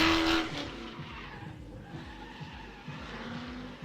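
Drift car at an evening drift and stunt show, tires skidding and squealing continuously with engine roar, loud at first then steady at a slight distance.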